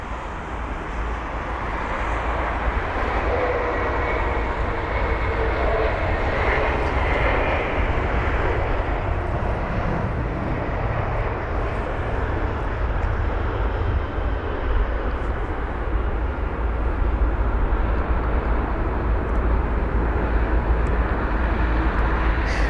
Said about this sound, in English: Let's see the 777 arriving from a 16-minute long flight from London Gatwick to London Heathrow